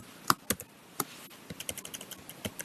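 Someone typing a spreadsheet formula on a computer keyboard; close, crisp key clicks in irregular bursts, a few sharp isolated strikes then a quicker run of taps, with no talking.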